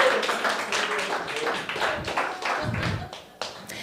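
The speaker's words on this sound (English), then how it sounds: "Round of applause for the Bible" Audience applause at an open mic stand-up comedy show: a short, dense burst of clapping from a small crowd that fades after a few seconds.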